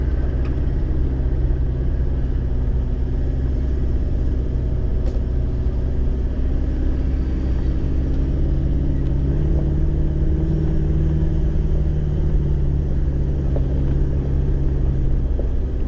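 An off-road vehicle running on three-wheel drive tows a trailer along a rough High Country track, a loud, steady engine rumble and drone heard from inside the cabin throughout.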